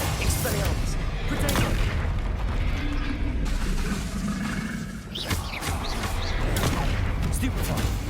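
Spell blasts in Hogwarts Legacy, with explosive bursts and booms crashing one after another in a loud, continuous battle din while a voice calls out over the fight.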